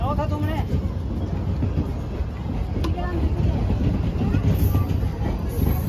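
A train at a station platform on a Kanchankanya Express journey, with a dense continuous low rumble and crowd noise, people talking over it nearby.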